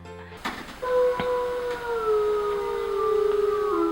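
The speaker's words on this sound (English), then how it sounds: "A wolf." A wolf howls in long, sustained, gliding tones that slowly fall in pitch, heard fairly clearly after a brief noisy start with a few faint clicks.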